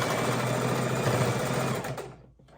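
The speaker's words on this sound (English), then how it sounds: "like to back stitch at the top and at the bottom, so I'm locking in that position" An electric sewing machine back stitching a quilt seam, running loud and steady with a fast mechanical hum and chatter for about two seconds before winding down and stopping.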